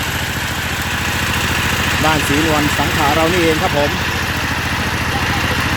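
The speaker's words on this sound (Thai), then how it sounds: "มาเป็นตัวขับเคลื่อนหรือว่าตัวพลัง สำหรับการเจาะบาดาลท่อ 2 นิ้วครับ" A small engine of about 95 horsepower drives a cheap, compact well-drilling rig boring a 2-inch pipe in rural Thailand. It runs at a steady, throbbing mid-pitched idle throughout while someone talks over it.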